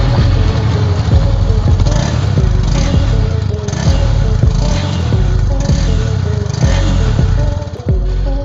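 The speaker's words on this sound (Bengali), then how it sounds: "প্রথমে আপনাদেরকে ইঞ্জিনের সাউন্ড একটু শোনানোর চেষ্টা করি" A Honda CB300F motorcycle engine runs loud and close with a rough, even idle thrum. A few sharp mechanical clacks and slight swells in the beat come through, and no voice is heard.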